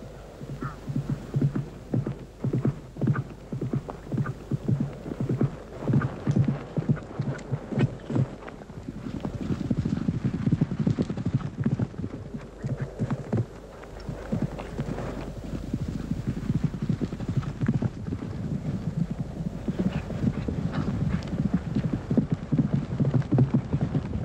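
Horse hooves clip-clop steadily at a riding pace throughout, a repeated rhythmic thudding that stays fairly close and loud over a low rumbling hum.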